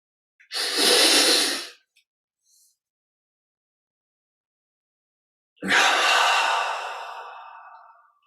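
Two long, deep exhalations during guided meditation, close and loud, each a breathy rush that fades out, separated by several seconds of silence and a faint small breath.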